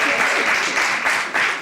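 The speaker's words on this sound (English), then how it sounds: "give them a round of applause, please" Brief, loud applause fills a room as an audience claps in response to a speaker's prompt, a dense, steady wash of hand claps over a short span.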